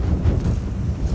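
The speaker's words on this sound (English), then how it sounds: "It's so windy." Wind buffeting a microphone outdoors, a loud, continuous low rumble that flutters unevenly with no voices or other sounds breaking through.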